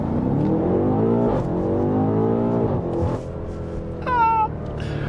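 A BMW M8 Competition engine revs hard under acceleration, its deep roar climbing in pitch through several gear pulls, close and loud, with a brief higher whine near the end.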